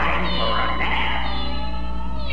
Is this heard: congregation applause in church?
no